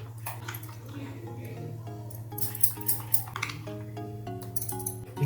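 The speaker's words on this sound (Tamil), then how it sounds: "இப்போ அடுப்பில் இருந்து இறக்கிட்டோம் இறக்கிட்டு தான் இப்போ கிண்டுக்கிட்டு இருக்கிறேன்" Melted Oreo chocolate mixture being stirred in a pan just off the heat: a spoon clinks and scrapes against metal in an irregular rhythm, close by, over a low steady hum.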